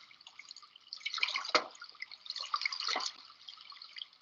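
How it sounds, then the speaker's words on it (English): A tiny, gently flowing stream in school grounds, with a small spiral-bladed generator set in the water, gives soft, steady dripping and trickling close by, rising into brief splashy bursts. "His generator works even with the gentle flow of this tiny stream."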